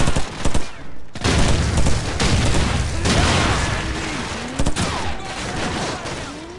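Heavy sustained gunfire from a Call of Duty 4: Modern Warfare firefight, dense overlapping bursts and booms filling the whole stretch with a brief lull near the start.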